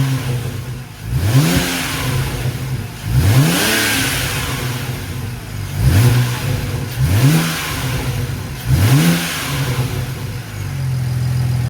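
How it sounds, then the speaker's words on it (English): A BMW E90 335i with the N54 engine and stock intake revs repeatedly, five sharp throttle blips rising and falling at a steady rhythm over a continuous idle, close and loud with no talking. "I threw in a quick little sound clip of what the stock intake sounds like"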